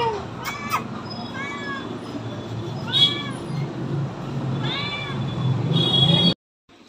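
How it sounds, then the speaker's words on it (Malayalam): A kitten at a shop gives several clear, rising meows, spaced a second or two apart, over a busy background murmur. "അവിടെ കടയിൽ നല്ലൊരു പൂച്ചക്കുട്ടി ഉണ്ടായിരുന്നു."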